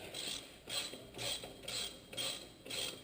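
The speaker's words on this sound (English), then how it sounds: "let's go ahead and undo this bottom bolt" A ratchet wrench clicks steadily as the bottom bolt of an FR12 brake caliper is undone, in five regular bursts of close, moderately quiet ratcheting.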